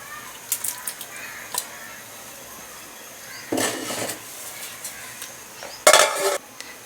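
Mint and lemon being stirred into matar pulao in a cooking pot: a few light metallic clinks and scrapes of a spoon against the pot, with two short louder bursts of mixing over a quiet background.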